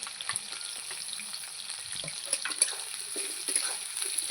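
Potatoes and onion fry in a pan for a fish-head chorchori, giving a steady, fairly faint sizzle with small crackles and occasional stirring clinks, with no voices.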